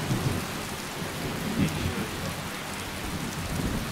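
Rain and rolling thunder from the Skyrim video game form a dense, continuous wash of falling water with low rumbles surging briefly, steady and fairly loud with no talking.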